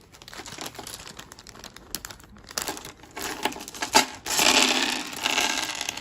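Crinkling plastic bag of dice handled close up, irregular rustles and crackles that grow louder and denser toward the end, with small hard clicks of dice mixed in.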